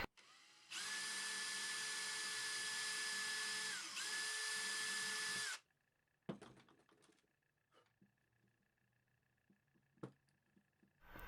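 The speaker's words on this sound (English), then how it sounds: "I drill one, put the screw in there, and then I drill the other side." A power drill runs steadily for about five seconds with a brief pause in the middle as it drills holes for screws in a small box, then stops, followed by scattered clicks and handling knocks.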